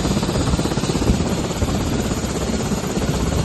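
A helicopter drops dry food packs and sanitary supplies over a flooded area along the overflowing Mahaweli river, its steady rotor chop and engine roar loud and close throughout, with no speech.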